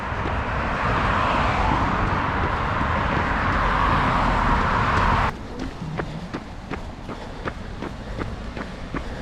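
Road traffic on Woodward, a road with solid lanes of traffic: a steady, loud roar of passing vehicles for about five seconds, which cuts off abruptly, followed by quieter rhythmic footsteps.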